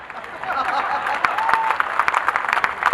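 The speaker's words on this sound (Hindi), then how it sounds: "आप लोगों ने छुटर फुटर तालियां बजा दी" Brief, scattered clapping from a crowd at a Hindi comedy show, uneven and fairly close, with some chatter and voices mixed in.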